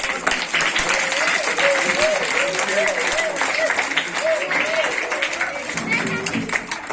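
Steady sustained applause from an audience at a Lions Club tree-planting event as a guest is welcomed onto the stage, with a voice speaking over the clapping throughout.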